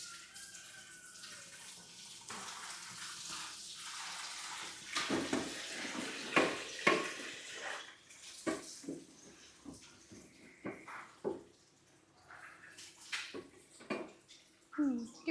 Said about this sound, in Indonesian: Iki wayahe nyuci.